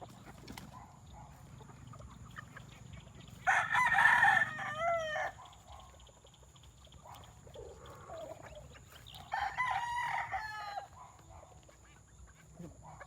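A gamecock from Bulacan crows twice, loud and close, with a quiet pause between the calls over faint background noise.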